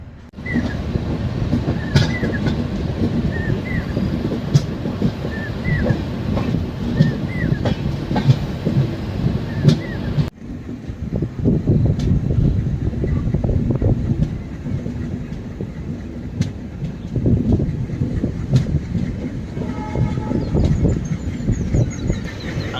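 Pothigai Express, hauled by twin WDG-3A diesel locomotives near Tenkasi, rolls along steadily with loud continuous rumble and rhythmic clickety-clack of wheels over rail joints, heard from on board, with no talk.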